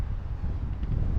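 Wind rushing against a quadcopter's goggle recording during a flight of a Rotorama Buddy 7-inch build, a steady low buffeting rumble that stays loud and unbroken throughout.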